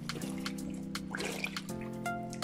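Faded pants are dipped into a dye mixture in a large amount of water, giving soft trickling and dripping with a low gurgle over a steady background hum.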